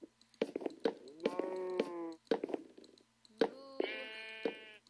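Minecraft cows mooing repeatedly in a video game, several drawn-out moos separated by short gaps and mixed with quick clicky game effects, fairly close and clear with no talking.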